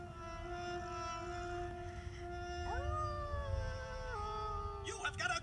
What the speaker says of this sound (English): When you hear the eerie howl of the French horn coming from the orchestra, danger is close by in the form of the wolf